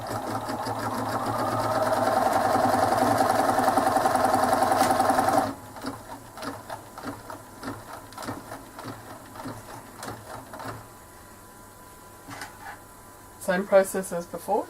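An embroidery sewing machine stitches fabric in a hoop with colour-matched thread, a fast loud needle clatter for the first few seconds that stops abruptly, followed by a person speaking over quieter handling sounds.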